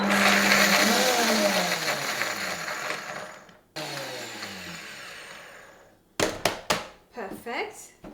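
A kitchen blender grinds walnuts and chia seeds in two loud, close runs whose pitch drops as the load settles, then stops, followed by a few brief clatters of the jar and lid.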